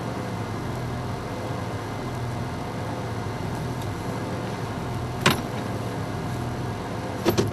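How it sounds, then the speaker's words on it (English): A safari vehicle's engine idles steadily and close by, with a constant low rumble throughout and a couple of brief sharp knocks near the end. "In fact, I'm going to switch off the engine a bit."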